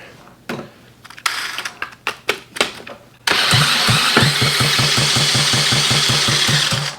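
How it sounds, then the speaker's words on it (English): Honda Z50A motorcycle engine turned over by its electric starter: several short cranking bursts, then it catches and runs with a loud, steady, rapid idle chugging, close by. "I'm going to go ahead and use my electric starter."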